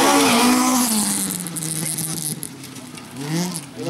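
A rally car crosses the finish on a special stage at Rally Telemark, its engine note sweeping past nearby with a falling pitch and then rising again, with a voice talking over it.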